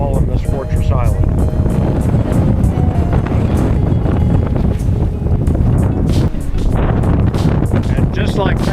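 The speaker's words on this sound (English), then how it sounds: "in 30 to 40 mile an hour gusty winds" Strong, gusty wind of 30 to 40 mph buffets the microphone at the Monemvasia fortress island in Greece, a loud continuous roar with surging peaks and rumbling low buffeting throughout.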